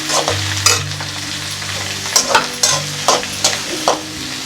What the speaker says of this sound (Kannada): ಈರುಳ್ಳಿ, ಕೊತ್ತಂಬರಿ, ಕರಿಬೇವು, ಪಲ್ಯಕ್ಕೆ ಹಚ್ಚಿಟ್ಕೊಂಡಿದ್ವಲ್ಲ ಅದಿಷ್ಟು ಒಗ್ಗರಣೆಗೆ ಹಾಕೋಣ